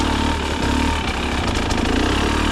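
KTM TE300 two-stroke dirt bike engine lugging low in the revs, then pulling itself out on throttle, a steady loud close-up engine drone throughout.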